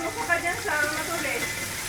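Garlic sizzling as it fries in a Saladmaster pot for papaitan: a steady, close crackling hiss with small spitting pops that holds evenly throughout.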